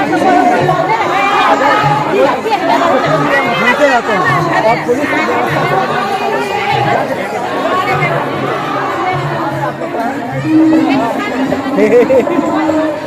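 A large crowd chatters in a dense, continuous babble at the Shyama temple during prasad distribution, with someone talking close up over the hubbub throughout.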